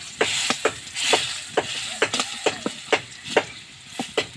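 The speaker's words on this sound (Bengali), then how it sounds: "এই তেলের ভেতরে রসুনটা আমি একটু ভালো করে ভেজে নেব" Garlic frying in hot oil in a pan, a steady close sizzle punctuated by regular sharp scraping strokes as it is stirred.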